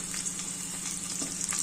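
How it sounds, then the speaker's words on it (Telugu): Garlic roasting in a pan for a broad bean curry gives a steady, close sizzle and crackle of frying that runs evenly throughout, with no voices. "రోస్టెడ్గా వేయించుకోవాలండి ఎల్లిపాయనే దీనికి బాగుంటుందండి."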